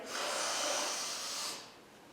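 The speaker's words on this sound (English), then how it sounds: "you exhale like you're blowing your nose on the left" One sharp, forceful breath pushed out through the nose, a brief airy hiss that trails off.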